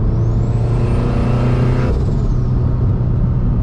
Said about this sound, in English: Get that nice blow-off sound.